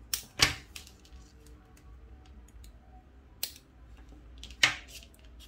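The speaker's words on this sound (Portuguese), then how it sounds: "já posso vir e cortar o excesso do nalho" Scissors snip excess nylon beading thread on a beaded bag, a few quiet, crisp isolated clicks with long pauses and light handling rustles between them.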